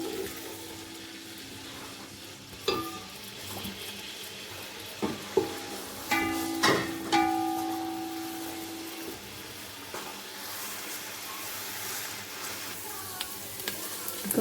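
Onion frying in a pot with spices and chicken for white pulao, giving a low continuous sizzle broken by a few scrapes and clanks of a spoon against the metal.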